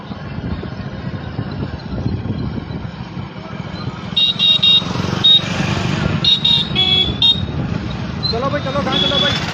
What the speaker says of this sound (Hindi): भाई मोटरसाइकिल पुट्ठा मोड़ ला भाई